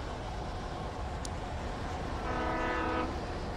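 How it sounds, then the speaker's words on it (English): A train passing in the video game Alan Wake Remastered, a steady broad rumble with a brief high whistle-like tone, then a rising rhythmic rattle of cars rolling by. "No, come back, train!"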